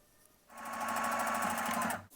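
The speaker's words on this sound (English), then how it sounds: "You're going to take your stitch just below it to box it in" A sewing machine top-stitches across a fabric face mask just below its nose bridge strip, running in one steady, close, even whir for about a second and a half, with quiet before it starts and an abrupt stop at the end.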